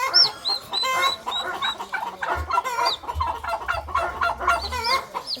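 A chicken chick peeps and clucks rapidly and repeatedly at close range, its high chirps continuing over a faint low hum.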